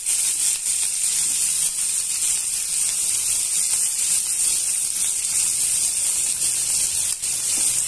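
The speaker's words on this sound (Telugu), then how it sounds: "ఇప్పుడు మనం ఉల్లిపాయ ముక్కల్ని పచ్చిమిరపకాయ ముక్కల్ని బాగా వేయించేసుకుందామండి" Sliced onion and chopped green chillies fry in oil in a pan for a potato fry, giving a loud, close, steady sizzle with no gaps or talk.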